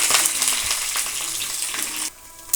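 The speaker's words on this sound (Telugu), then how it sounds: "ఆయిల్ హీట్ ఎక్కింది. ఇప్పుడు పోపు దినుసులు వేసేసుకొని" Tempering spices hit about two spoons of hot oil in a pan and sizzle loudly and steadily, a close, dense crackle that drops off abruptly near the end before a brief final spatter.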